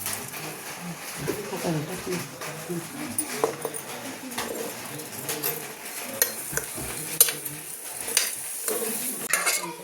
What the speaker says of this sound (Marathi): आता हलवून घेऊ आपण खालवर करून